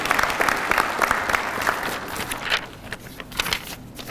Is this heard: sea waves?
no